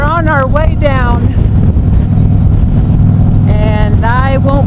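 Strong wind roaring loudly and constantly over a microphone during a motorcycle ride down Pikes Peak, with a voice speaking over the buffeting at the start and end.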